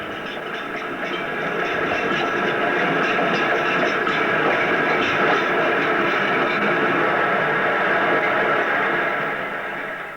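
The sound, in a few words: boat train arriving at Southampton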